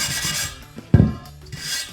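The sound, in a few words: scrubbing motorcycle rim notches with a steel wire brush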